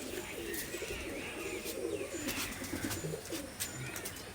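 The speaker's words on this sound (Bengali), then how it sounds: "সব মাদ্রাজি কবুতর।" Madrasi pigeons coo in soft, repeated low throaty phrases, several birds overlapping close by against a steady background hiss, with scattered higher chirps and faint clicks, no talking.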